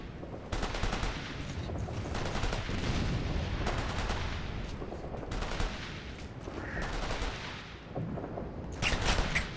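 Suppressing fire in the Operation Flashpoint: Red River combat game: rapid, relentless automatic bursts, loud and close, with brief lulls and a sharp volley near the end, and some shouted voices mixed in.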